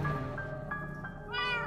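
A cat in Minecraft Story Mode meows in a few short, tonal cries, clear and close, ending on a higher, more drawn-out call.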